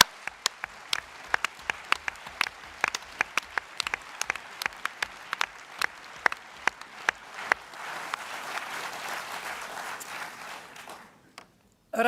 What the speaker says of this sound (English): Can we give Shirley-Anne, Neil and Jenny a huge round of applause?